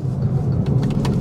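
A 2023 Peugeot 208 GT with the PureTech 130 engine accelerates at full throttle from inside the cabin, a loud low engine drone building over a short burst, no talking.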